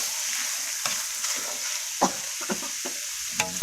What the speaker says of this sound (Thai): ผัดพริก